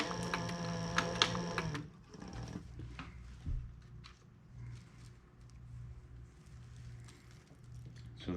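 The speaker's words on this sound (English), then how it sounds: "I'm stitching one edge of the long nylon strap down" A machine stitches a long nylon strap onto a tarp in a loud, whirring burst for the first couple of seconds, then falls to quiet handling and faint rustling.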